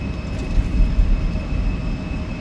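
An Embraer E175 jet taking off in the X-Crafts flight simulator, a loud steady engine roar with a deep low rumble and a thin constant high whine, no voices.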